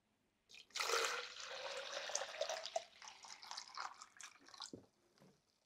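Dehumidifier water pours into a small bottle in a steady, splashing stream that gurgles and trickles off near the end, close and fairly quiet.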